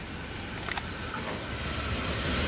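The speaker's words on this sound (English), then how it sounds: "We have a Cronulla service passing platform number 4, T78 leading." A Sydney Trains Cronulla service runs past platform 4 at Tempe station, a steady broad rumble and hiss of the passing train with a brief higher metallic squeal near the start, fairly close and continuous.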